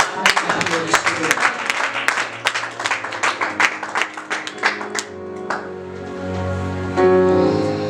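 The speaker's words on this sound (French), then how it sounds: "Est-ce qu'on peut acclamer?" A church congregation applauds loudly, with a dense run of rapid, sharp claps that continues steadily and then settles into a sustained crowd roar with a swelling, cheering tone.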